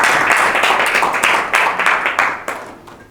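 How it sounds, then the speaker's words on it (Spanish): An audience applauds after a mathematics colloquium lecture, a burst of clapping that begins full and gradually thins out and fades over a few seconds. "Un aplauso."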